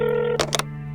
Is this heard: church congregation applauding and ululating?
no